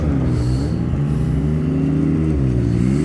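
Yamaha snowmobiles running along a groomed trail, a loud, close engine drone whose pitch rises and falls steadily as they pass, with no voices.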